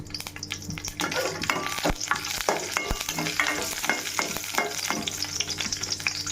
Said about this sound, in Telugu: కొంచెం జీడిపప్పు వేసుకొని దోరగా వేయించుకోవాలి